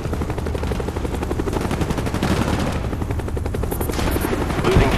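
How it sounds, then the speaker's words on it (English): Heavy rotor thumping from an enemy Cobra attack helicopter in Black Ops multiplayer, on the map Array in Domination mode, mixed with bursts of gunfire and explosions in a loud, continuous battle din. "Enemy Cobra headed your way."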